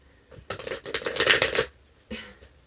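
Tarot cards are shuffled by hand in a dense, papery riffling burst lasting about a second, followed after a short pause by a brief, softer second shuffle, close and clear with no talking.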